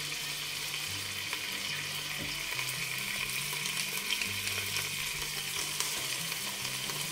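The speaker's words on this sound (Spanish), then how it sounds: "Una vez que lo tengamos un poquito ya calentito, vamos a ponerle nuestro ajito picado." Minced garlic frying in hot oil in a pan, a steady close sizzle that runs unbroken throughout with faint stirring, no talk.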